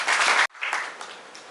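An audience claps loudly at a book launch, then the applause cuts off abruptly and picks up again more softly, fading into scattered claps.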